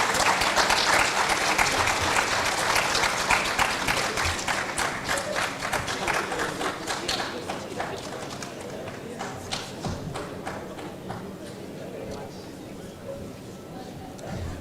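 Loud, sustained applause from an audience at a county assemblies legislative summit in Mombasa, dense clapping that fades gradually over about fifteen seconds.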